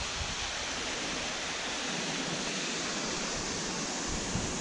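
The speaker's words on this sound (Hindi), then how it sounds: "ये फॉल्स है" Hopkins Falls waterfall at Cudgee roars as a steady, dense broadband rush of falling water, continuous and fairly near, with no voices.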